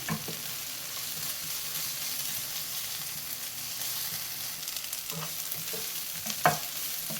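Fenugreek leaves (methi) frying in ghee give a steady, quiet sizzle with occasional soft stirring scrapes and a brief sharper clink near the end, with no talk.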